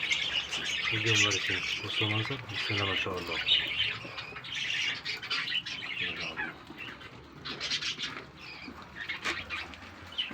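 Pet birds squawk and chirp in dense, continuous bursts close by while feeding on clover, with a person talking over them throughout.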